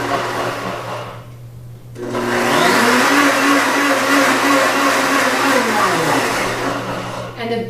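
A blender runs loud and steady, whirring a light salad dressing mixed with sour cream, with a quieter start before the motor ramps up and holds a constant drone.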